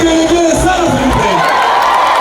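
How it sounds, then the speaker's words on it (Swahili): A crowd at a Muslim iftar gathering with the North Kivu governor in Goma ululates and cheers, with loud, sustained, wavering high trills and whoops filling the space throughout. "Vigelegele sana vipe."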